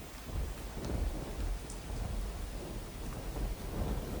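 Heavy monsoon rain pours steadily over Dwarka while low thunder rumbles through, a dense, constant wash of sound with no voices.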